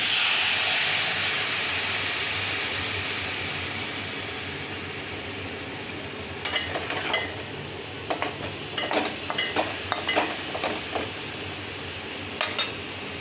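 Tamarind water added to a hot pan for a tamarind pickle, a loud broad hiss and sizzle that gradually fades, then sharp clattering stirs and scrapes over the quieter bubbling, no voices.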